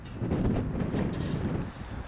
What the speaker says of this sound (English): A little windy out here in the western suburbs.